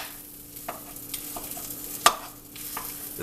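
Sparse spatula taps and scrapes in a pan, chopping up food to look like ground beef over a soft sizzle, with one sharp clack near the middle.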